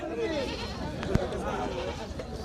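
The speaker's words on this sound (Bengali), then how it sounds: "ব্ল্যাক বেঙ্গল জাতের কিন্তু ছাগল নিয়ে আসছেন" Black Bengal goats at a busy goat market, with wavering bleats rising over a constant crowd murmur and voices, plus a sharp knock partway through.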